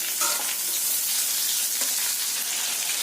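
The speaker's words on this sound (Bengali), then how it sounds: "এবার ওতে আমি ক্যাপসিকামগুলো দিয়ে দেবো, দিয়ে আবারও ওগুলো একটুখানি হালকা হাতে নেড়ে নেব অল্প করে।" Capsicum stir-fried in a hot pan for soya chilli, giving a steady, close, bright sizzle with light stirring scrapes and no talking.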